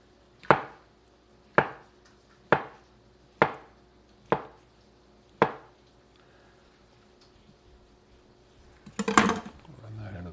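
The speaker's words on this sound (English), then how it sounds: "I just slice them" Six evenly spaced sharp knife chops on a cutting board slicing avocados for guacamole, crisp and close, followed by a brief clatter of scraping into a bowl.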